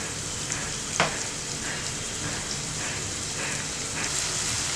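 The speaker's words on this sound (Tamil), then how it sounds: "வெங்காயம் வதங்கட்டும்." Onions sizzle and fry steadily in hot oil in a pan, a continuous crackling hiss with a brief louder stir or clink near the start, heard alone and close while cooking fish masala.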